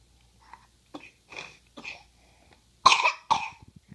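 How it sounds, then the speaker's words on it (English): Several short coughs from a 9-month-old baby nearby, a couple of softer ones first, then two louder harsh bursts, followed by faint small clicks. "I got a cough."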